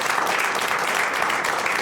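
Studio audience applause fills a French political talk-show set, a steady dense wash of many hands clapping throughout, loud and continuous with no break.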